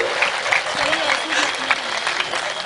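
An audience applauds a comedy poet at a Hindi hasya kavi sammelan, a steady crackle of clapping that fills the whole moment. Faint voices come through underneath it.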